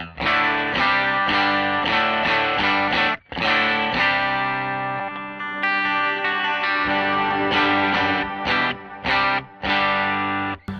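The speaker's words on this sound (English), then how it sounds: "So I have just set my amps out of phase." Electric guitar played through two amps set out of phase, giving a lopsided tone, hollow on one side and full on the other: loud distorted chords in choppy bursts with short gaps, one sustained passage in the middle.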